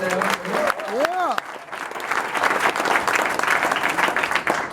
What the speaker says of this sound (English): round of applause for that group.